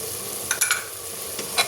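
Coriander, red chili and turmeric powders are stirred in a hot frying pan under a constant sizzle, with a few light scraping clicks from the spoon against the pan, close up and with no voices.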